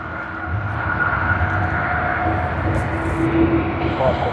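A China Southern airliner departs Sydney Airport, its engines a steady, broad roar that holds loud and even throughout without pause.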